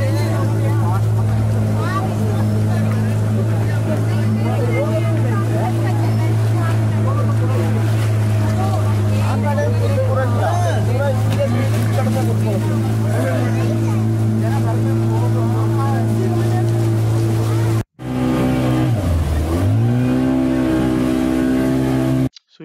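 A boat ride across heavy, rough water during the rainy season in Coorg: a steady, loud engine drone runs throughout with rushing water noise, a brief cut near the end, and no talk over it.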